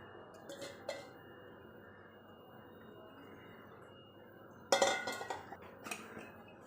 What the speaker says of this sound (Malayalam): നമുക്ക് ഈ ചട്ടിയിലേക്ക് ഈ ചക്കയുടെ ചുള അരിഞ്ഞത് ഇട്ട് കൊടുക്കാം